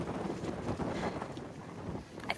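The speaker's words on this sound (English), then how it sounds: "walking into some really strong wind gusts, and they're cold" Strong, cold wind gusts buffet the microphone on an open Virginia beach, a dense continuous roar rising and falling with each gust, loud and close with no talking.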